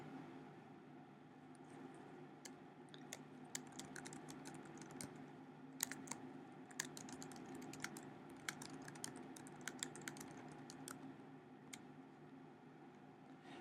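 Steady typing on a computer keyboard to enter information into a module creator tool, with soft irregular key clicks at close range over a quiet background hum.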